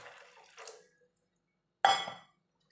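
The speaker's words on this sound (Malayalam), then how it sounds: "കുറച്ചും കൂടി വെള്ളം ഒഴിച്ച് കൊടുക്കുക" Water poured into a fish curry in a pot, two short splashing pours separated by a pause, close and fairly quiet.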